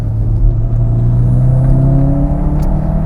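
Toyota MR2 engine droning steadily while drifting uphill, a loud continuous close rumble with sustained revs and no break throughout.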